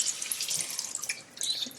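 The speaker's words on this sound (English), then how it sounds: "All you need to do is get some water. Just like that, some water on it." Water runs from a tap in a steady splashing stream, close and clear, briefly easing before resuming, while a stained tap is being cleaned.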